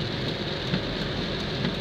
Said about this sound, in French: Il pleut, voilà